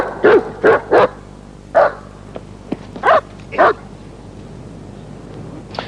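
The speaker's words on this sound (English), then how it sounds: "My dog's usually quiet, and she saw this man standing over there, run at him and barked at him hysterically." A dog barking loudly and close in sharp bursts, a quick run of three, then single and paired barks with brief pauses between.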